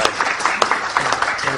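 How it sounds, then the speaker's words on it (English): Lively audience applause welcoming a lecturer to the stage, loud and close with sharp individual claps poking out of the crowd noise, a faint voice briefly underneath. "I'll just ask you to give some applause to welcome out Dr."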